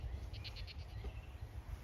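A freshly shorn pet sheep gives a short, thin, wavering bleat in a quick pulsing burst, heard at moderate distance over a low rumbling background.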